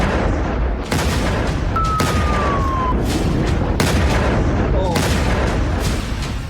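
Heavy bombing explosions in Tehran during Israeli air strikes, a loud continuous roar broken by several sharp booms and blasts, with dense noisy rumble throughout and no clear speech.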